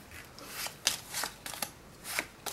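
Playing cards being handled and squared in the hands during an Elmsley count card trick, a run of soft, crisp riffling flicks and snaps spaced irregularly, close and fairly quiet with no talking.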